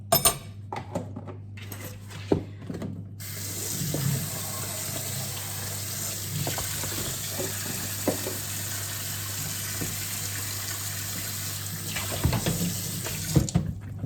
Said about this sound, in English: we're just going to rinse this off a little bit so we can cut it